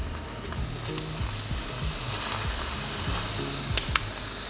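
Food for a Guyanese cook-up sizzles steadily in a hot pan with a little oil, a close, continuous frying hiss broken by a few soft clinks and stirring sounds, with no one speaking.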